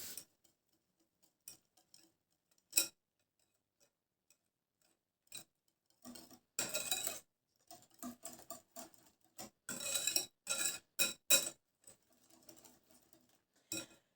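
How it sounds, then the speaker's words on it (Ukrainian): A spoon stirs cake batter made with sugar in a bowl, giving scattered clinks and scraping taps in irregular bursts, close and fairly quiet, with silent gaps between strokes. "І все це перемішуємо"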